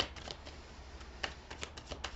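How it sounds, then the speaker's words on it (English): Tarot cards being shuffled by hand, a run of soft irregular slaps and flicks, close and fairly quiet, with no talking. "I will show you in a second as soon as I finish shuffling for the third card."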